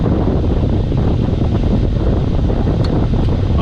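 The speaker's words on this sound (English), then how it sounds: "Now we're blowing out of the defroster." Air rushing steadily from a Jeep's defroster vents, a loud, continuous broadband blowing with no pauses, close to the microphone.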